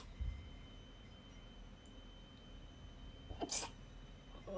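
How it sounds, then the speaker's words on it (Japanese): A single short sneeze comes sharp and close near the end of an otherwise quiet indoor moment. "くしゃみしそう。"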